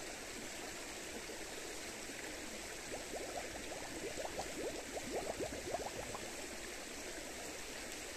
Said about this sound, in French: je l'ai rempli là. Bon, ça me coule dessus, c'est un peu froid.